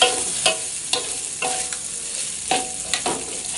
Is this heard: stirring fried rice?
yes